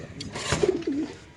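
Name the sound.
Lahori pigeons cooing at a pigeon farm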